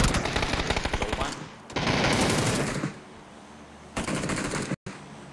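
Rapid gunfire in a video game, bursts of fast automatic shots crackling loudly in close succession, then a quieter gap before another short burst, with brief talk mixed in.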